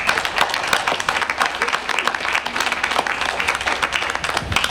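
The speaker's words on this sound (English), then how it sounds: "we would be remiss if we did not give them a round of applause" A small group of attendees at a school district Board of Education meeting gives a brief round of applause, with distinct, fairly close hand claps forming an uneven patter for a few seconds.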